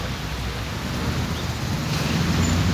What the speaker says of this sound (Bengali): বৃষ্টি পড়ছে এই জন্য আপনাদেরকে সামনে দেখাতে পাচ্ছি না